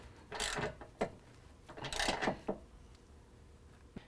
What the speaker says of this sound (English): Then we can tighten up our rear bracket flange nut, again with the 13mm.